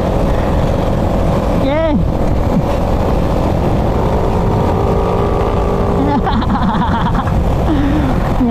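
A Raider motorcycle with a faulty, sputtering carburetor revs loudly and continuously, its engine note rising and falling in uneven bursts while a voice speaks briefly over it.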